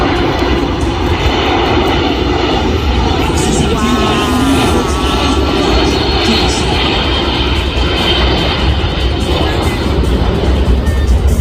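A US Air Force C-17 airlifter flies past at an airshow, its jet engines a loud, sustained broadband roar with a faint whine, while an announcer talks over it.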